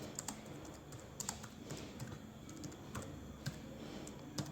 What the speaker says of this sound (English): Let's say I want to type in a lot of things.